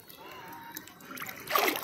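River water in the Ganges trickles and sloshes as someone bathes, then splashes loudly near the end as they dunk under. The water is close, and faint voices can be heard in the background.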